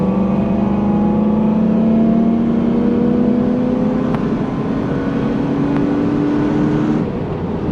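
A Toyota Hilux Xtra Cab fitted with a 1UZ V8 revs up, the engine note climbing steadily, loud and close, for several seconds before easing off near the end, with no one talking.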